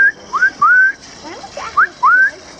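Clear whistled notes from a person at a model train meet with LGB and steam trains, several short rising and sliding tones in a quick phrase, close and fairly loud, with faint background murmur.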